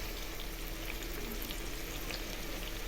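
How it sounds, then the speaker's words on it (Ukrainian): Pork belly and onion sizzle steadily in a hot pan, a soft continuous crackle of frying with no voices. "А я смажу почеревину з цибулькою."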